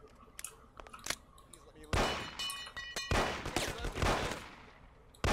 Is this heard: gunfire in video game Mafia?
yes